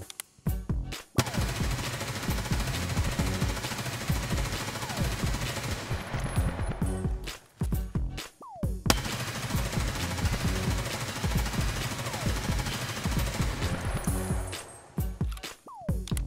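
Full-auto gunfire in the video game Escape from Tarkov: two long, loud, sustained bursts of rapid shots, each lasting several seconds, with a short break between them.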